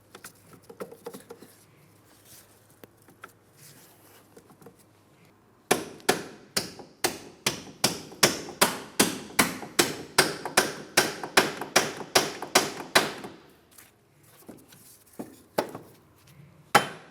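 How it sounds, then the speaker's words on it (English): Splined bolts are hammered into the steering knuckle while a front CV axle goes into a 2004-2008 Pontiac Grand Prix 3.8L V6, heard as a long run of about twenty sharp, evenly spaced metallic taps after quiet handling sounds. "Now what I'm attempting to do is tap the splined area of each one of the bolts into the steering knuckle."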